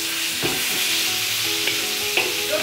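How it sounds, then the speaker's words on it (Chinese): Scallions and diced pork stir-fried in hot oil, a steady close sizzle broken by a few sharp spatula scrapes and clinks against the wok, with no talking. "先炒葱花肉丁"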